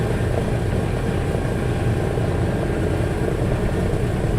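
Engines of the Sky Master aircraft running steadily, a loud continuous low rumbling drone with a throbbing propeller beat, close by and with no talk.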